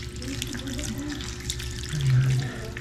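Water running from a tap to wash instant noodles in a boarding house kitchen, a steady broadband rush that swells louder near the end, with a faint voice underneath.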